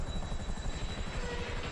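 Steady, close helicopter rotor thumping and engine whine in GTA Online, continuous and loud with no talk.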